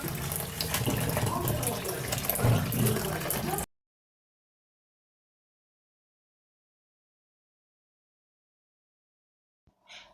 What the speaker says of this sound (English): Make sure you wash your plantain before peeling.